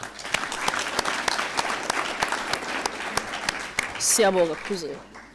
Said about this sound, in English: Can we please give a Premier a very big round of applause?